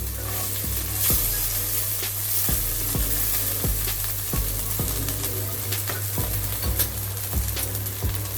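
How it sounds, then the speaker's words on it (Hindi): Grated coconut fries in a couple of spoons of oil in a kadai, a constant loud sizzle broken by regular metallic clinks of a spatula stirring against the pan. "ये नारियल को अच्छे से लाल करके फ्राई करके लेना है"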